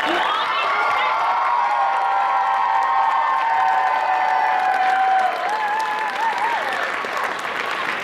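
A large anime convention crowd at closing ceremonies cheers and applauds continuously, with high shouts and whoops riding over dense clapping throughout.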